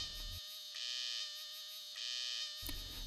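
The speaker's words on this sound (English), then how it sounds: "A tiger siesta is broken by the sound of chirping of a cicada." A cicada in the forests of Manas in India shrills with a loud, continuous high-pitched buzz that swells in two pulsing bursts over a steady background, with no other sounds.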